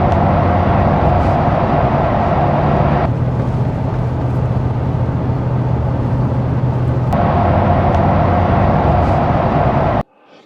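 Wind roars inside a new manual two-door Ford Bronco Sasquatch hardtop while driving, a loud constant broadband rush with steady road rumble that shifts slightly in tone midway, then cuts off abruptly near the end.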